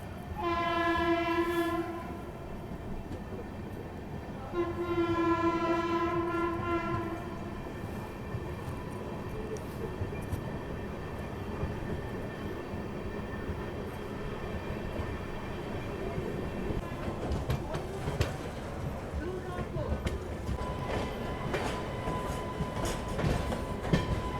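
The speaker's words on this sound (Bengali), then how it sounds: "এই মুহূর্তে আমাদের ট্রেন ছেড়ে দিল দুর্গাপুর থেকে।" A passenger train horn blows twice in long blasts, then the rumble and clatter of rolling carriages builds steadily as the train pulls away from Durgapur station.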